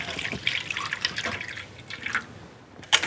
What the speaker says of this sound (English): Pour the sweet coffee into the ice-cold tray.